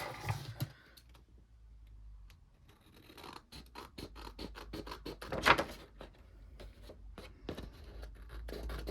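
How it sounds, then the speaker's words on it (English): Soft snipping and scratchy paper sounds from scissors, quiet and close, with small irregular clicks and rustles throughout. "Just need to neaten up that edge with the scissors."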